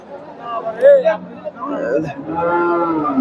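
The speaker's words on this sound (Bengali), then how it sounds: "ফ্রিজিয়ান ক্রসের গাভী আর ক্রসের ষাঁড় বাচ্চা।" Friesian cross cows and calves moo at a cattle market, several drawn-out lowing calls close by, mixed with speech and faint crowd murmur.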